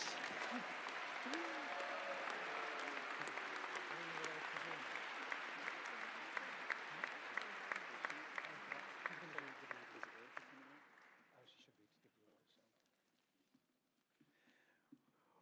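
An audience at the Gurwitz 2024 International Piano Competition claps in a warm, full round of applause, with faint voices mixed in, before it thins out and dies away to scattered claps.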